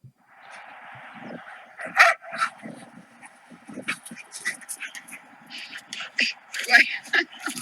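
Dogs at a park, replayed through a device speaker: a steady faint whine followed by scattered yips, whimpers and small barks, fairly thin and distant, with people talking underneath.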